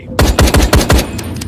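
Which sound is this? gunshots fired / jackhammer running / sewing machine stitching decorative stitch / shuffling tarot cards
gunshots fired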